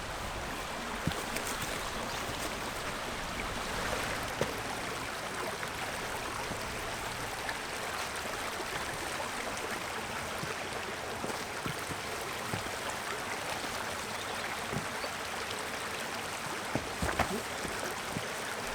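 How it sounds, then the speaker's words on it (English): Small waterfall cascade on the Caerfanell River, a faint, steady rushing hiss of falling water heard continuously from some distance outdoors, with occasional light knocks. "the first thing we come across is a mini cascade"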